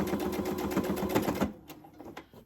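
A sewing machine stitches quilt fabric in a fast, steady mechanical run close by, stopping abruptly partway through and leaving only faint handling noise.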